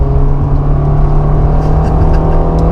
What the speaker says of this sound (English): I am in second gear. Let's floor it. 40, 50, shift.